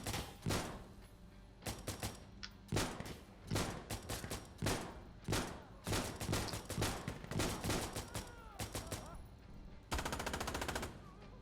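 A rifle with a drum magazine fires in long, loud automatic bursts in Insurgency Sandstorm, the rapid rounds broken by short pauses, with a final dense sustained burst.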